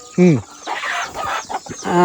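Hens on a small village poultry farm give loud, close clucks at the start and again at the end, with a stretch of talking in between.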